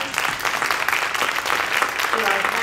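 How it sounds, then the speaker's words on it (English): Audience at a candidates forum in Port Angeles applauds, a steady, loud wash of many clapping hands filling the room and continuing evenly throughout. "Let's give a round of applause."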